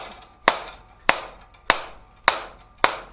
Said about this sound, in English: Rawhide mallet